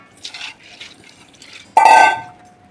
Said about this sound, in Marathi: आता मी चाळणमध्ये काढून घेते.